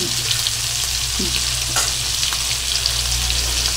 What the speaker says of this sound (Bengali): ডিমগুলো আমি দিয়ে দিলাম কড়াইতে, আস্তে আস্তে করে ভেজে নেব